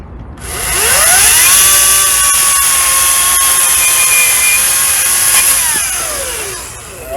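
A chainsaw, one of a battery-versus-gas pair, bites into wood close by in a single sustained cut, its high whine steady for about six seconds and dipping in pitch as the chain loads up mid-cut.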